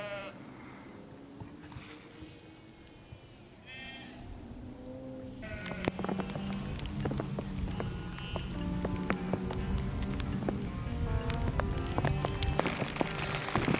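Rain pattering steadily on a surface while wild camping in the Peak District hills, a sheep bleating in the distance early on, with the downpour growing heavier and louder partway through.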